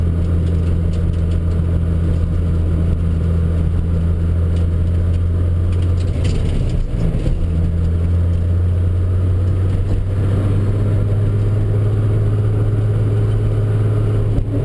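A loud, steady engine drone fills the cabin of a 1971 Datsun 240Z, a low constant rumble with a brief rev change partway through and no talking.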